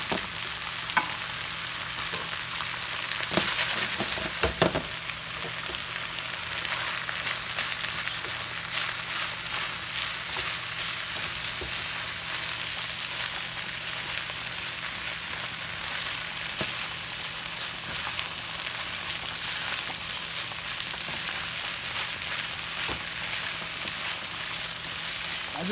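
Shrimp frying together with fried rice in a pan, a steady close sizzle with light stirring and scraping running throughout, no talk.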